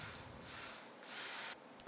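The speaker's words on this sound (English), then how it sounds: "I'm doing some pocket hole screws here" Power drill driving pocket hole screws into wood for a buck euro mount plate, a steady whirring run with a brief dip and a short pause before it resumes, fairly quiet.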